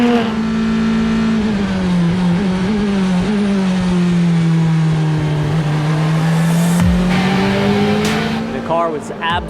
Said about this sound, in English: The combined field of LMP3 and LMP2 cars out for 15 minutes of